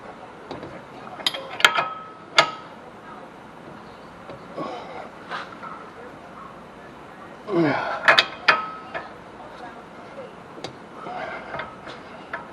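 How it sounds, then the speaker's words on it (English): A hand ratchet working on the front axle hub of a Ford Taurus, quick irregular clicks in short bursts and a few scrapes, close by, while someone talks now and then. "Let's go ahead and try to work our ratchet off here."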